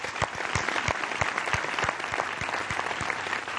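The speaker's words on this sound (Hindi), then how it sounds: "इनके लिए बहुत सारी तालियां।" A studio audience applauds a guest on a comedy show, steady dense clapping punctuated by a few loud, sharp, close claps in a regular rhythm, with no speech over it.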